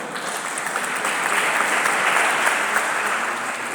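Sustained audience applause fills a conference hall, a dense, steady wash of many hands clapping at moderate loudness for the whole stretch, with no one speaking over it.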